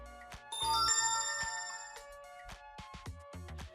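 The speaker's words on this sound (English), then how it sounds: "whenever the power state changes, you'll get an audible notification" A BlitzWolf BW-VP5 720P budget projector plays a bright chime when its power state changes. The tone rings out close and clear for about a second, then fades, followed by a few soft clicks.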